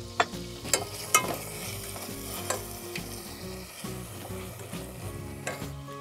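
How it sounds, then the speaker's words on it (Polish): Colorful bell peppers stir-fried in olive oil in a pan for ratatouille, a steady sizzle with scraping stirs and a few sharp clinks of a utensil against the pan, close and continuous with no talking. "zacznę od przesmażenia kolorowych papryk"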